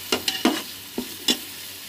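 Masala for fish curry fries and is stirred in a pan, heard as five or six distinct, close scraping strokes of a spoon against the pan, each followed by a short sizzle, over a quiet background.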